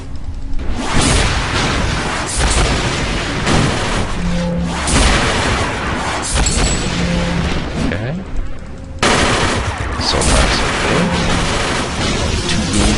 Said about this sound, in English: That guy's wielding a Tommy gun.